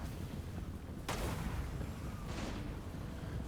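Missile volleys in a Total War battle between Greenskins and Empire armies, a sudden launch burst followed by a second softer whoosh over a steady rumbling battlefield din.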